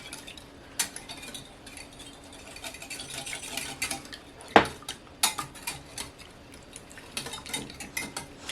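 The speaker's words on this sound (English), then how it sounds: "So we're going to mix the orange zest in." Orange zest being mixed into scone batter in a bowl, a spoon or whisk clinking and scraping against the bowl in irregular taps, one sharper knock partway through, close and moderately quiet with no talking.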